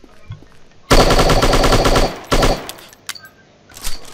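Rapid automatic gunfire from the Striker chapter 3 shooting game, loud sustained bursts of machine-gun fire followed by shorter volleys and scattered single shots, with no speech.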